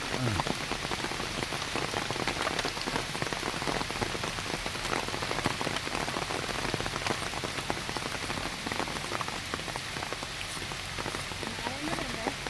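Steady rain falls on a rubber estate during a women's rubber-tapping training session, a loud, dense, unbroken patter of drops on leaves and surfaces nearby.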